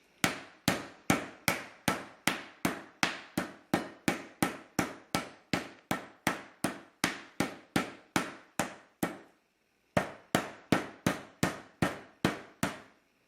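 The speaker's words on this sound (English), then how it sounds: "So we just split it and then pound it out nice and thin." A pork cutlet covered with plastic is pounded thin for Wiener schnitzel, giving a steady run of sharp, evenly spaced thuds, about two or three per second, with one brief pause before the rhythmic pounding resumes. No talking.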